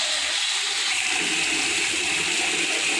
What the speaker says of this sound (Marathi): आता बारदी भरते बघू शकता पाण्याचा आवाज येत असेल